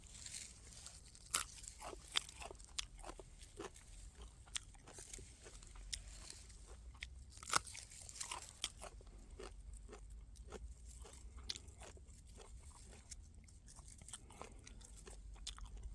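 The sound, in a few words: chewing a freshly dug raw root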